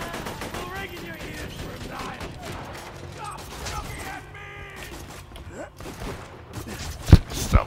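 Video game gunfire crackling in a dense, busy mix with mechanical clatter, ending in two sharp, loud shots near the close, while players talk over it.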